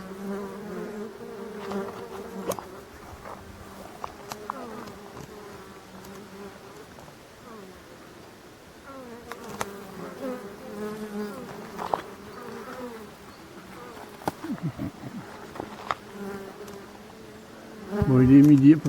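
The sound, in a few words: wild local black bees buzzing at a hollow tree hive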